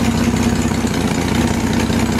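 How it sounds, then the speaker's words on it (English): Engine idling on a makeshift running stand built from scrap offcuts, a steady, loud, close mechanical drone with an even hum and no change in pace throughout. "we've got a bit of footage of a few engines running on that stand"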